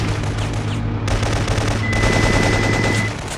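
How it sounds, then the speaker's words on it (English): Heavy sniper gunfire in the PS1 video game Syphon Filter 3 comes as a dense, loud barrage of shots layered over a steady low in-game drone, with no talk. "Heavy sniper fire from the end of the valley."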